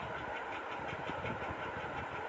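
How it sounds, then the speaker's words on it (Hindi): A sewing machine running steadily while stitching a simple suit (kurti), a continuous low motor hum with a faint rapid rhythmic clatter, quiet and close, with no talking. "तो इसी तरह से हम पूरे पार्ट में इस तरह से सिलाई लगा लेंगे।"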